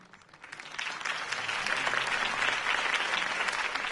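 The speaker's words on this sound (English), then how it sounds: "could have heard that applause" In a Batman video game, applause from a crowd at a city campaign speech swells up after a quiet start and continues steadily, a dense wash of clapping heard from a moderate distance.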